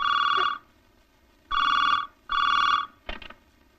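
A telephone ringing in bursts: three long electronic rings separated by pauses, then a short clipped ring cut off, loud and close with no voices.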